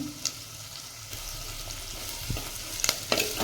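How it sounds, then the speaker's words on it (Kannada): Onion frying for a tomato tempering in a pan, a steady close sizzle with a few soft stirring scrapes and light taps toward the end, no talking. "ಉಳ್ಳಾಗಡ್ಡಿ ಸ್ವಲ್ಪ ಫ್ರೈ ಆದಮೇಲೆ ನಾನು ಟೊಮೆಟೊ ಹಾಕ್ತೀನಿ. ಇದು ಚಂದ ಫ್ರೈ ಆಗಲಿ."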